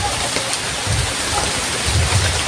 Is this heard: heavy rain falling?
yes